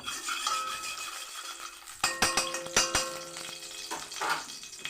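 Ghee heating in a pan with a wet spatula, for carrot halwa, crackling and sizzling in broadband bursts that sharpen into a cluster of loud pops partway through, then settle back to a steady fry.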